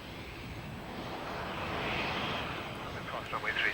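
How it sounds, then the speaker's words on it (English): A Dornier 328 regional airliner taxiing toward the apron on a single engine gives a steady, broad engine roar heard from the flight deck, swelling slightly midway, with a voice speaking over it. "Only one engine is needed to taxi to the apron."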